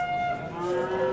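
A cow at a cattle market gives a single sustained, steady moo that falls slightly in pitch, heard close and alone.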